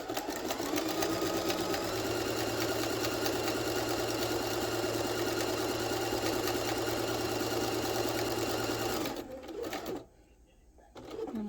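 A sewing machine runs in one fast, steady burst while stitching a fabric mask, its motor humming close and continuous before stopping abruptly, followed by a short quiet pause and a faint restart.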